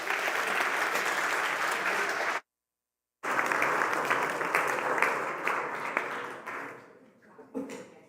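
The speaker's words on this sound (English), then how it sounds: "One more round of applause for CJ" A conference audience at a Bitcoin event bursts into loud, sustained applause, cuts out briefly, then resumes and thins to scattered claps before fading.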